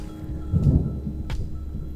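Thunder rumbles low and deep in the Romanian mountains, with a swelling roll and a second faint crack, heard from a forest clearing beside a yurt, with light rain noise around it.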